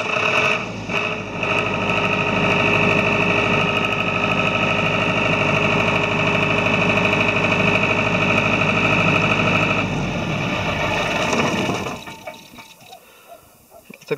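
A power generator engine with coolant preheating runs after a warm start in sub-zero temperatures: a loud, steady mechanical drone with a constant hum that holds for about ten seconds, then winds down and fades away.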